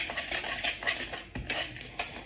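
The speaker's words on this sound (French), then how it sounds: "On va bien mélanger." A utensil stirs an egg into muffin batter in a bowl, making steady clinking, scraping strokes against the sides. The rhythm is continuous and close, with no talking.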